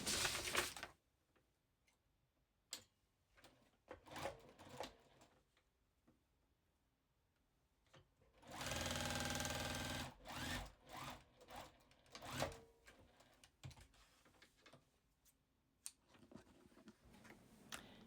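Sewing machine stitching fabric squares for a heart-shaped mug rug, with a few seconds of steady running in the middle and scattered clicks and ticks around it, faint and close.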